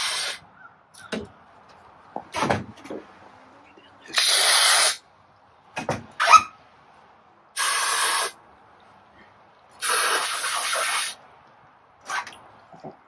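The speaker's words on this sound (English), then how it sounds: "So we'll spray this down" Several bursts of hissing spray from an aerosol can onto a fifth-wheel hitch, each about a second long, separated by short pauses and faint clicks.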